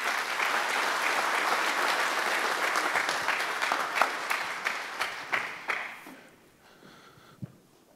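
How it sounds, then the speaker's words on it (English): Applause from a conference audience at a supply chain summit, a full round of clapping that holds steady, then thins into scattered individual claps and fades to near quiet with one last clap. "Let's give a big round of applause one more time."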